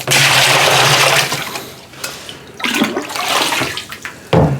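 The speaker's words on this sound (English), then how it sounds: "I'm gonna dip out 5 gallons of that 80-degree water and put it in my container here" Five gallons of 80-degree water splash and gush into a fermenting container for a sour mash whiskey starter, loud and close, then come a few shorter pours and a final splash.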